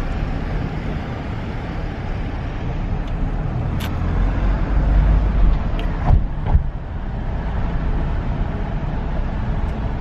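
Steady low rumble and hum fill the upper deck of a moving double-decker passenger train in France, continuous and fairly loud, with a few faint clicks and knocks and no talking.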